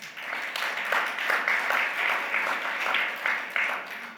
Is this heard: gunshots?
no